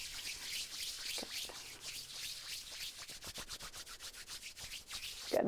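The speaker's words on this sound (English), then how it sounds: "Let's rub the palms together." Palms rub briskly together in a quiet room during a gentle bedtime yoga session, producing soft, rhythmic swishing strokes that grow quicker and more regular.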